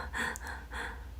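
A voice imitates the heavy, creepy breathing of an obscene prank phone caller: two drawn, breathy gasps, close and moderately loud, with no words spoken.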